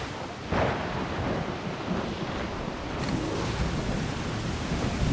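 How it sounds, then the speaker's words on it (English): Rough sea waves surge and roll beneath rumbling thunder in Assassin's Creed 4 Black Flag, a loud, continuous storm with a heavier crash of surf early on and no talk. "Look, guys, and rough seas there!"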